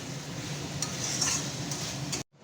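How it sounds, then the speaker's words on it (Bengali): Ghugni masala with tomatoes is sautéed in a pan, a soft steady sizzle with light spatula scrapes and metallic clinks, ending in a sudden cutoff, with no voices. "টমেটো দিয়ে এবার কষানো হবে।"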